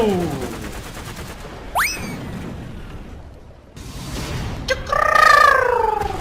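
Tank cannon fire and explosions in the War Thunder video game, with sharp blasts and whooshing shell sounds, a louder burst near the end, while players shout excitedly over the action.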